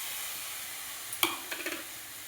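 Grated coconut cooking in a pan on a gas stove, a faint steady sizzle with a few soft clicks and scrapes from stirring near the end.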